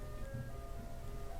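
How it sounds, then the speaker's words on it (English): Tinny ice cream truck jingle drifting faintly from a distance over a steady low rumble, brief and distant with no one speaking. "There are ice cream trucks seriously passing by right now?"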